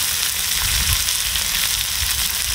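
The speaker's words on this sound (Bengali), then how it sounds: "এখন আমি ভেজে নেব।" Onion, garlic, chili and ginger frying in a pan, a steady, loud, close sizzle that runs without a break.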